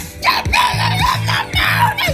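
Voices loudly scream sung lyrics in short, rhythmic bursts over a thumping beat with repeated bass notes.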